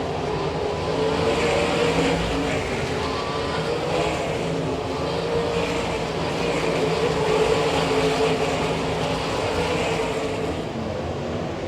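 Sprint cars from the All Stars and NCRA series race around a dirt oval in Wichita, Kansas, a steady, dense engine roar carrying throughout without pause and no voices over it.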